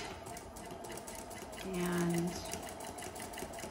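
A sewing machine stitches a zipper seam with the presser foot down, a steady fast whir running the whole time under a speaking voice.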